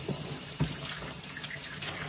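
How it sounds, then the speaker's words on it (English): Tap water runs steadily as wet paint is rinsed off a paint roller handle, a continuous close splashing flow with a couple of louder knocks from the handle against the sink. "I always wash the handle, because the last thing you need is paint dripping from your handles"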